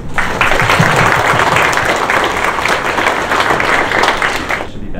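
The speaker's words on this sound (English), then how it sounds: "Round of applause, please." Loud, dense audience applause at a children's coding hackathon show-and-tell, a full burst of many hands clapping that holds steady for several seconds, then cuts off abruptly near the end.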